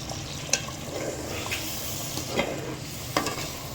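Milk and cream poured into semolina halwa frying in oil, giving a steady sizzle with occasional sharp stirring clinks of a spoon against the pan, fairly quiet and without speech.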